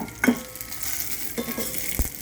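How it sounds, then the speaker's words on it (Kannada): Garlic, cumin and mustard seeds sizzle in hot oil for a tempering for tomato rasam, a soft steady crackle with a few sharper stirring clicks, close and alone. "ಈಗ ಇದಿಷ್ಟು ಒಗ್ಗರಣೆ ಆಯಿತು. ಬೆಳ್ಳುಳ್ಳಿ ಸ್ವಲ್ಪ ಕೆಂಪಗೆ ಹಾಕಬೇಕು."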